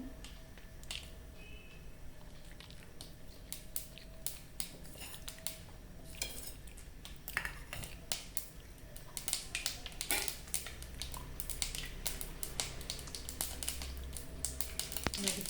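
Mustard seeds spluttering and popping in hot oil over a medium flame, a dense run of sharp crackles and snaps that grows busier and louder toward the end, with no talking.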